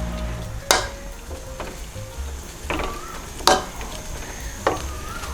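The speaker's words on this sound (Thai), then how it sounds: "เดี๋ยวลวนหมูให้ออกเหลืองหน่อยเนาะค่ะ" Pork belly being stir-fried in a wok-style pan, a steady sizzle broken by several sharp scrapes and clacks of a utensil against the metal, close and without talk.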